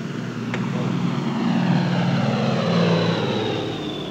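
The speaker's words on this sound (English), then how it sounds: "U.S. Air Force weather planes scour the unpredictable Caribbean." A U.S. Air Force weather plane drones steadily overhead, a loud continuous propeller-engine roar over the Caribbean, swelling slightly midway, with no talk.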